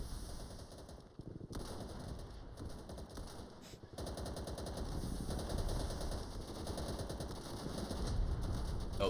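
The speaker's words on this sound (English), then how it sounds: "M1 Carbine does not F around, it is pretty good." Rapid automatic gunfire from an M1 Carbine in an old-school Call of Duty-style war game, bursts of shots running almost nonstop at close range over a dense battle backdrop.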